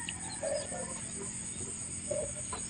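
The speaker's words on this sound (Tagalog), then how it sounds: "Kalapati pala yun." Birds in a rice field after harvest, short soft clucking and cooing calls popping up a few times over steady outdoor background noise, fairly close.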